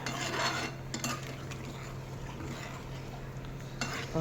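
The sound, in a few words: stirring a curry in a pot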